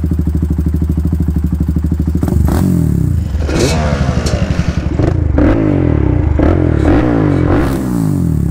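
A quad ATV engine revs hard and shifts gears, likely a Banshee or a 560cc Predator build, with loud, rapid, buzzy revving that rises and falls through several quick power shifts, close to the microphone.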